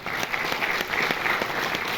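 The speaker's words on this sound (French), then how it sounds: "Pauline de Raymond, applaudissez-la aussi, la programmatrice" An audience at a film festival screening applauds steadily and briskly, with the dense clapping of a large crowd filling the whole moment.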